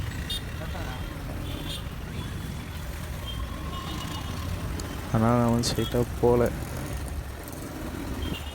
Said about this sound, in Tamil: வண்டி பாருங்க ஃபுல்லாகவே நிற்குது